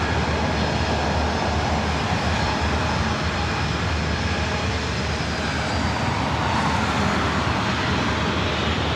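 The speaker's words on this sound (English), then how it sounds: "Delta Airlines Flight 358 heading to Nashville, 737-900 ER. Next takeoff." A Delta Air Lines Boeing 737-900ER, bound for Nashville, takes off at LAX with a loud, steady roar of jet engines that fills the whole stretch with broadband rumble and no voices.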